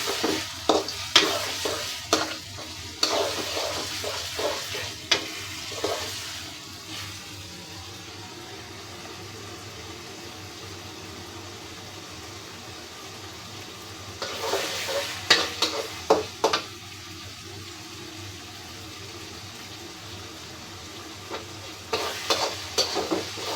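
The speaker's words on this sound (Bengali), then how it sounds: "মশলা খুব সুন্দর করে তেল ছাড় দিচ্ছে গাইস" Spice masala fries in oil in a pan, keeping up a steady low sizzle while bursts of vigorous stirring and scraping come and go, close and without any talking.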